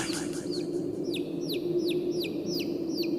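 A chick peeps repeatedly in short descending chirps, evenly spaced, over a steady low hum, heard from a distance on a mountain hike.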